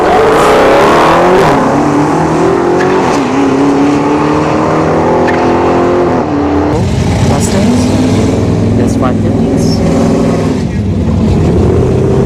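A Dodge Hellcat and a Boss 302 drag race at ShowTime Dragstrip during a test-and-tune session, loud close engines revving and pulling hard with rising, overlapping tones as the cars launch, with voices over the noise.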